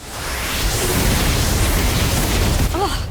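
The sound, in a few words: Confringo explosion spell in Harry Potter: Magic Awakened video game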